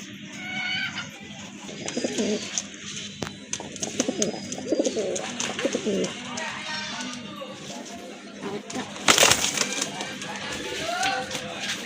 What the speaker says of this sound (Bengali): আরেক জোড়া কবুতর হিউজ হিউজ সাইজ কবুতর